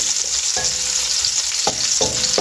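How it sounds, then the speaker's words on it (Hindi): Chopped onion and round lemon slices fry in a hot pan, a loud, dense, continuous sizzle heard up close, broken by a few brief scraping stirs of a utensil, with no voices. "अब मैंने जो प्याज चॉप करके एक रखा हुआ वो डाल रहा हूँ"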